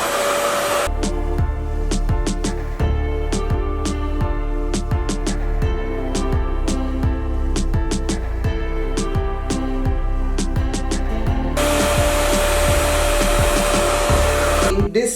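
A Revair reverse-air hair dryer runs on its high heat setting 4, a loud steady whoosh that holds near and constant from start to finish. Sharp ticking and clicking patter rides over the roar, and no one talks.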